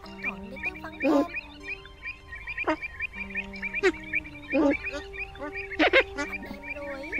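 A spoonbill calls to its flock with a series of nasal, honking cries, several bursts spread irregularly over seven seconds, moderately loud over a low background hum.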